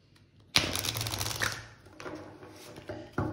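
A deck of cards shuffled for a Chinese zodiac reading, a close, crisp riffle followed by softer rustling and a second quick burst near the end.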